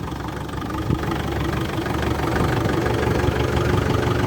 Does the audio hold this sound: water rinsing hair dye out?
no